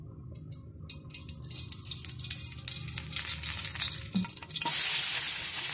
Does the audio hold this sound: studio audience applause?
no